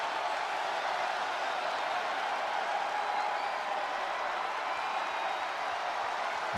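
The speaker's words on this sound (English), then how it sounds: "As you hear this crowd, that infamous "Get These Hands" chant, and I'm sure Braun Strowman wants to give s" A large arena crowd in the WWE2K wrestling video game roars and applauds in a steady, unbroken wash of noise, though no distinct chant rhythm stands out.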